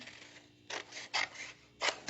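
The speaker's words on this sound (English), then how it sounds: "when you're fussy cutting, and this isn't even that fussy, you're going to move the paper, not really your scissors" Scissors fussy cutting paper, the paper turned against the blades: a few crisp, quiet snips spaced apart, heard up close with no talking.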